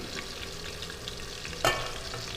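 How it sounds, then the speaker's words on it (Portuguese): Lentils boiling in a pot on a stovetop, a steady bubbling simmer with a brief louder clink or splash midway, heard up close with no talking. "A lentilha também está fervendo."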